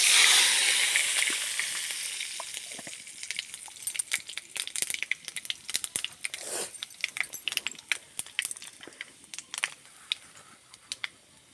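Panch phoron spices hit hot mustard oil with a bright, loud burst of sizzling that fades over a few seconds into scattered crackles and sharp pops of seeds spluttering close by.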